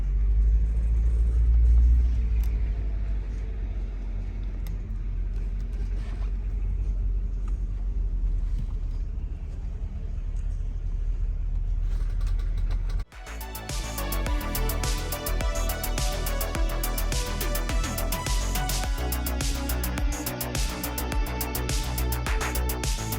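A Mercedes W210 cruises along a beach road, with a steady low engine and road rumble from inside the car that changes character halfway through as the surrounding noise becomes brighter and busier.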